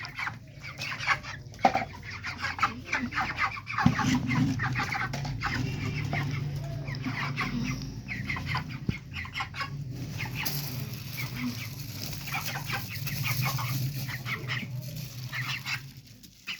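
Hungry broiler chickens, 31 days old, cluck in a close, busy chorus while feed mixed with a supplement is put out for them, with a few sharp knocks and no talking.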